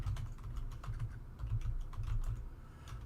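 Computer keyboard typing, steady rapid clacking of keys close by, continuous for the whole stretch with no voices over it.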